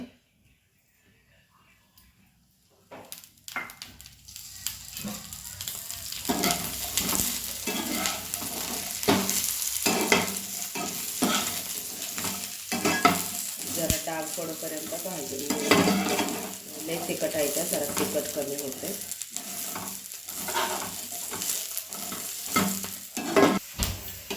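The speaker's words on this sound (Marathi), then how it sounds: "इथं धपाट्यासाठी मिरच्या मोडून घेतल्या त्या भाजून घेऊया जरा हिरव्या मिरची आहे" Green chillies roasting in hot oil in a pan for dhapate, a steady sizzle with stirring scrapes and clinks that starts after a quiet moment and continues close and fairly loud, with occasional soft talk.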